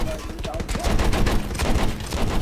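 Rapid machine-gun fire from a torpedo-boat gunner's position in a PC war game, a dense clatter of overlapping bursts that grows heavier after the first second and runs continuously under a faint voice.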